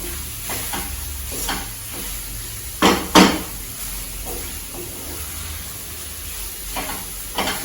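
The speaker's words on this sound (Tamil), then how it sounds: "இப்போ இந்த அரைச்ச தக்காளி விழுத இதில் சேர்த்துடுறேன்" Ground tomato paste goes into a pan of cauliflower masala, which sizzles steadily beneath a few louder stirring and scraping sounds from the utensil.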